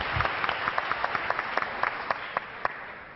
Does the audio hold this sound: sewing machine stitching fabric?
no